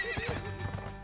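Rapid clip-clop of hooves from a galloping horse in the video game The Escapist 2, steady and close, with a brief whinny mixed in; no one speaks.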